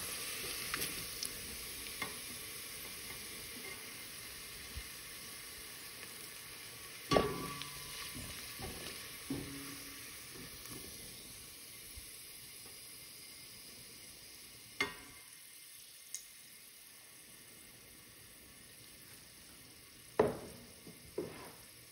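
Chopped onion fries in oil until golden for a lentil soup, giving a faint, steady sizzling hiss broken by a few sharp stirring clicks; no voices.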